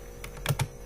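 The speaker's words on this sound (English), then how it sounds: "We will type something" Two or three quick, close keystrokes on a computer keyboard while entering figures into a program, short and crisp against quiet room tone.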